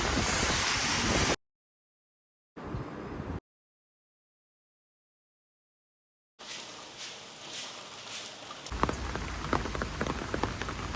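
Heavy rain in Guangzhou, China hisses in dense bursts, broken by sudden silences, with a rougher spattering wash of drops toward the end.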